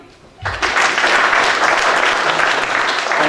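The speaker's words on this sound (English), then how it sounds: "An applause, please." Applause at the launch of African Celebrities Magazine breaks out after a brief quiet moment and carries on as a dense, steady clatter of many hands, loud and close throughout.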